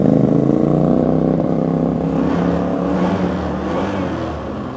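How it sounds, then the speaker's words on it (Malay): A 2021 Honda ADV 150 scooter idling steadily close by, its engine note a smooth, even hum with a slight fluctuation and faint clatter, gradually easing a little in level and heard alone with no talking. "so jom kita dengar bunyi motor ni."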